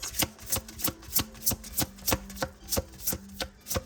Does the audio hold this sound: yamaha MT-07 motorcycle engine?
no